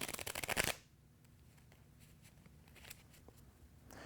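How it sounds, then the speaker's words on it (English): A deck of playing cards is shuffled in a brief loud burst of rapid fluttering riffles, then handling stops and only quiet room tone follows. "You can even shuffle again if you like"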